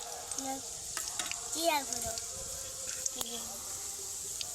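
Faint, soft sizzle of dried red chilies, bay leaves and cumin seeds frying in hot oil, with occasional light clicks and a brief squeak over a quiet background.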